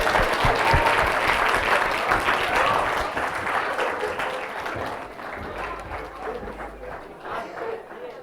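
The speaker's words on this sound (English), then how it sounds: "A big round of applause." Audience at an evening coding-marathon session applauds loudly and densely at first, the clapping gradually thinning and fading toward the end.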